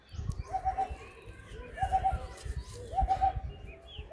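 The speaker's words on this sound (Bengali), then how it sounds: "অরিজিনাল অন্ধ্রা পায়রা এগুলো" Andhra pigeons coo in three evenly spaced bursts, each a quick run of three or four soft notes, at moderate distance over low background rumble and faint movement.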